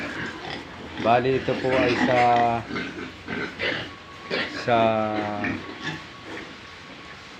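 Pigs grunting on a small family farm, heard under ongoing speech from a person talking throughout.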